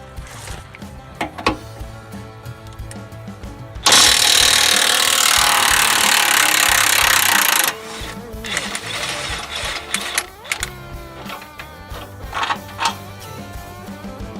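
An impact gun with a 24mm socket runs in a loud, steady burst of about four seconds on the Chevrolet Silverado rack and pinion mounting bolts, with clanks and tool handling before and after.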